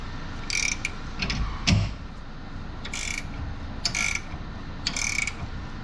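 A RoadActive suspension adjuster being turned during installation on a towing vehicle, a series of repeated mechanical ratcheting clicks in short bursts with a dull knock, close over steady background noise.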